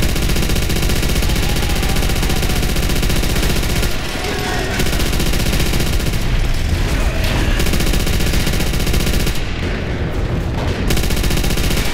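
Machine gun fire in the World War II shooter Call of Duty: World at War, a steady roar of sustained automatic fire broken by a few brief pauses, loud and close.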